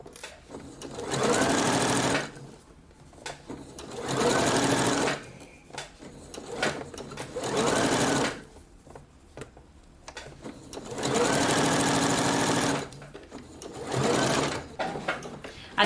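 A sewing machine sewing a lace trim sleeve into a garment, running in about five separate bursts of steady whirring with short pauses between, close and loud, no speech.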